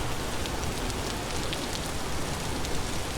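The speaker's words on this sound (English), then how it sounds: "Got waves and rain." Rain and waves during a storm on a river, a steady, dense hiss of rainfall with a broad watery wash beneath, constant and fairly loud, no voices.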